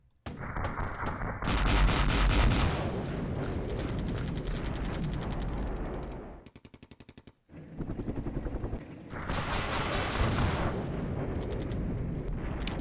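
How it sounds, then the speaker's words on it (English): Gunfire and explosions from the wargame Flashpoint Campaigns: Southern Storm, set in Germany, as units fire on a Hind helicopter: sustained dense rattling and booming bursts, loud and continuous with a brief lull midway, no talking. "Okay, we're shooting at him now."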